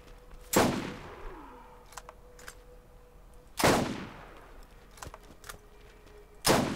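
Three loud, sharp gunshots from the Borderlands video game, evenly spaced about three seconds apart, each with a ringing decay, with faint clicks and quiet gaps in between.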